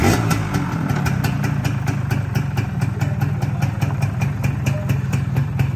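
A Suzuki Xipo motorcycle engine idles steadily and close by, a constant low putter with a rapid, even pulse throughout.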